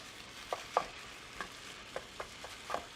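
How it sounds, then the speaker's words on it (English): Ground beef sautes in a pan for an elevated pizza, a low, quiet sizzle broken by a handful of sharp clicks and scrapes from stirring, with no voices. "Ground beef is sauteing."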